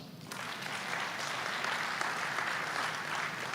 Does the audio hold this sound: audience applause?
yes